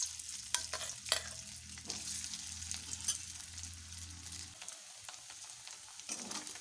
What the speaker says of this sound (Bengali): গ্যাসটাকে মিডিয়াম ফ্লেমে রেখে আমি হলুদ মাখানো পনিরগুলোকে গরম তেলে ভেজে নিচ্ছি।